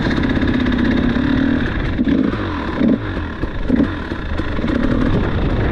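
An enduro motorcycle engine drones loudly on a wet, muddy hill climb, with rising and falling surges of revving throughout.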